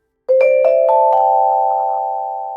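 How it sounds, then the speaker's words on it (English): Vibraphone plays a short jingle, a quick rising run of bright struck bar notes that then rings out in a sustained shimmering chord, clear and close with no other sound. "Vibraphone."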